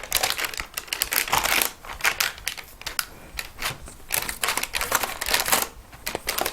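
A spoon presses and scrapes shortbread dough into an 8 by 10 baking tray, giving close, irregular clicking and tapping bursts of crisp scraping with short pauses, and no talk.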